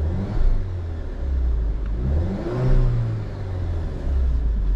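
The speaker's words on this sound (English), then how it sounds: "let's see what it sounds like when you give it some revs in this mode." A 2024 Alfa Romeo Giulia Ti RWD sits parked while its engine is revved in a sporty drive mode: a low, smooth engine note rises and falls in a few gentle swells, close by and moderately loud.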